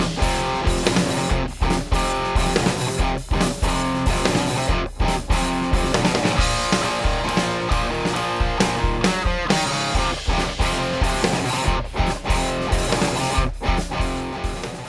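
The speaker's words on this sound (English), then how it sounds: "This guitar sound has a bit more clarity, a bit more bite to it." Electric guitar through an amp set with boosted bass and treble and scooped mids, gain unchanged, strummed in a steady rhythm of loud, bright, dense chords with brief choked gaps, close and alone without talk.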